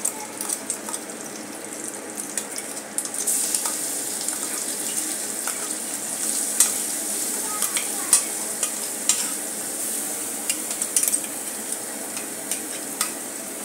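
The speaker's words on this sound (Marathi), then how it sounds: "तर आता मी हे वाटण तयार केलं ते घालून घेऊयात।" Ground green masala paste of green chillies and coriander frying in a pan for red pumpkin bhaji, a steady sizzle with scraping stirs and clicks of the spoon, close and clear without talk.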